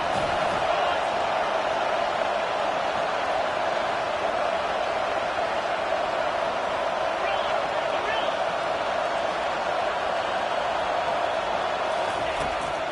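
Steady roar of a home stadium crowd in a football video game as the defense faces third down, a dense unbroken wash of cheering that holds at full level throughout.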